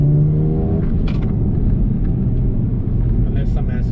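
Mercedes-Benz A35 AMG with a 306-horsepower engine pulls hard from inside the cabin, a loud steady low rumble with a brief rising harmonic whine at the start and faint chatter on top.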